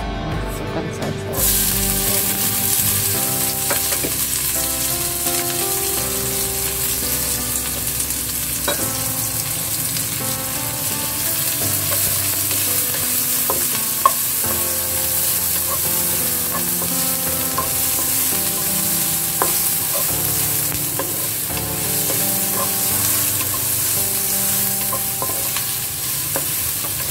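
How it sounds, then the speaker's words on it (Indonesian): Instant beef curry spice paste sizzles and crackles steadily in a hot pan while being stirred, a constant dense frying hiss with occasional scraping taps of the utensil, lasting the whole stretch without talk. "Dioseng sampai harum ya"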